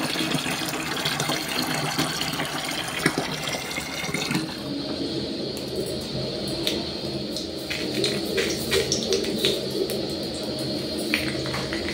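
Water running from a tap into a container in a home kitchen, a steady rushing splash that changes pitch as it fills, with faint bird calls and light clinks in the background and no talking.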